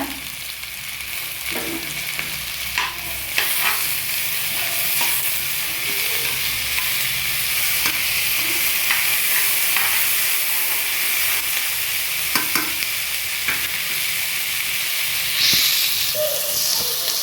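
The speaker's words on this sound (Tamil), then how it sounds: "வெங்காயம் தக்காளி சேர்த்து நல்லா வதக்கிக்கோங்க" Onions and tomatoes for vada curry sauté in a pan, giving a steady, loud sizzle and hiss with occasional stirring clinks throughout.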